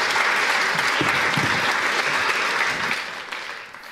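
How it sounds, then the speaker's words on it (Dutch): A hall audience gives warm applause, many hands clapping in a steady, dense roar that tapers off near the end. "Geef ze vooral een hartelijk applaus"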